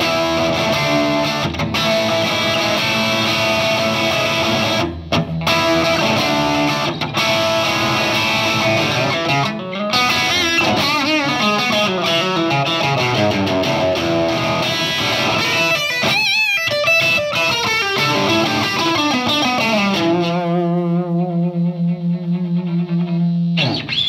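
An electric guitar played through a distortion effect rings out loud and sustained, with dense chords running steadily before settling into a single held, buzzing note at the end, no talking over it.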